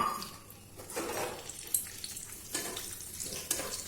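Cashews and raisins frying in white oil in a pan, a soft, close sizzle broken by a few light clinks and stirring scrapes, fairly quiet overall.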